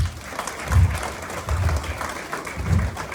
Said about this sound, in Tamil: ஒரு பெரிய பாராட்டு கொடுத்துங்க உங்களுக்கு.